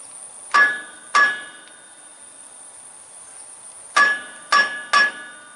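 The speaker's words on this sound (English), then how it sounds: "Alright, I'm going to take a hammer" Hammer striking a truck wheel hub: five sharp metallic ringing blows, two close together and then three more after a pause, each with a short ringing tail, over a faint steady high whine.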